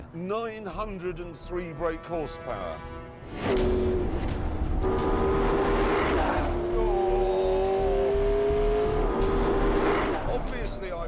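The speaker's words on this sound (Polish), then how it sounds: "Silnik elektryczny i spalinowe V8 pracują wspólnie, dając mi do dyspozycji 903 konie mocy" A McLaren P1 hybrid V8 supercar engine pulls hard, a steady high rising tone after a sudden surge, with someone talking over the first few seconds.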